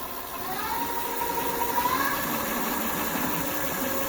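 An electric motor on a Snapcycle R1 e-bike, tilted back on its kickstand, spins up at full throttle into a steady whirring drone with a rising tonal whine, loud and continuous with no voices.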